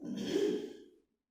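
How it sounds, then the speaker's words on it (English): A single long exhale during a pranayama breathing exercise, a soft, close, breathy sigh lasting nearly a second that fades out into silence. "And then exhale, relax everything."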